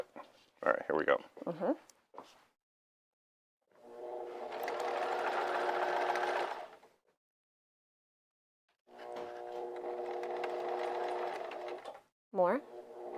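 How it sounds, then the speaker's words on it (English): A sewing machine stitches a pair of pants in two sustained, steady whirring runs of about three seconds each, separated by pauses, with people talking before and after the stitching. "Put your foot back down and resume sewing."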